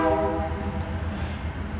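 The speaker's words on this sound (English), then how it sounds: "here I caught that different train working Iowa Falls, going over the UP bridge" Union Pacific freight train crossing the ex-Rock Island bridge southbound on the Spine Line at Iowa Falls, Iowa, sounding a loud, close horn blast over rumbling wheels.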